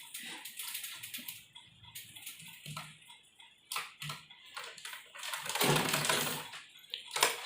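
A sewing machine stitches fabric for a child's dress made from a dupatta, running in short bursts of quick mechanical clatter with pauses between.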